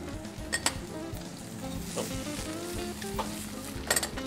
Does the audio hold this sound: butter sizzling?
yes